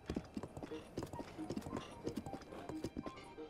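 Horse hooves clip-clopping in the video game Breath of the Wild, a quick steady walking rhythm of light, fairly faint hoof beats.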